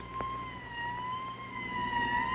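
A distant siren wails with a steady, slowly wavering tone over faint road rumble.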